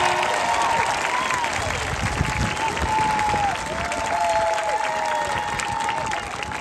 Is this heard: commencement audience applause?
yes